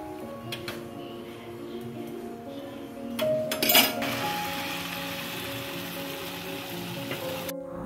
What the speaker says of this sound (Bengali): মা এদিকে মালপোয়া ভাজছে